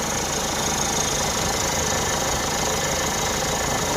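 A Hyundai Grand Starex diesel with the D4CB engine idles after a timing chain, guide, sprocket and tensioner replacement, running as a steady, close, even rumble throughout with no talk.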